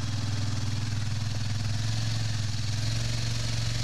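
A 4x4 ATV engine runs steadily on a guided off-road tour, a low even thrumming hum close by with little change in pitch and no talking.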